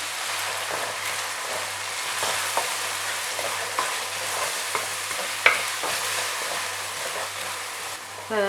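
Tomatoes with rock salt fry for an egg curry, giving a dense, steady sizzle and hiss like rain on a surface, with occasional scraping stirs close by.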